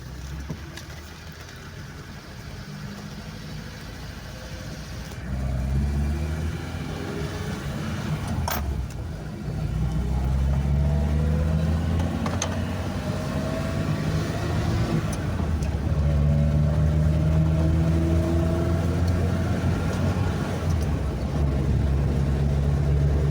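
A VAZ 2105 car drives along a level dirt road, its engine droning steadily up close with gear changes and rising revs across the run, no talk over it.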